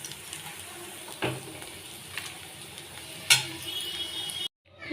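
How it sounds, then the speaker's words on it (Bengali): Bitter gourd frying in hot oil, a continuous sizzle with stirring and a couple of sharp utensil knocks before the sound cuts out near the end. "এই দেখো করলাটা কিন্তু আমার অনেকটাই ভাজা ভাজা হয়ে গেছে।"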